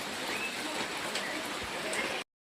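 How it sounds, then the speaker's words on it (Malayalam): Light drizzle patters softly and steadily outdoors, a faint, even hiss of fine drops that continues until the sound cuts off near the end. "വലിയ മഴയില്ല, എന്നാലും തൂളിത്തൂളി ഒരു മഴയാണ്."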